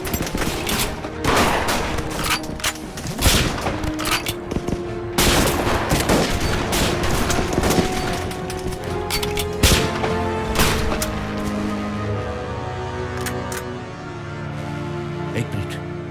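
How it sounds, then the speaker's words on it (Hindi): Bursts of gunfire crack and echo repeatedly in a Hindi war film battle against Chinese troops, with rapid volleys and single shots over a rumbling background, voices shouting faintly in between. "गोलियां चलाता ना मेरे भाई।"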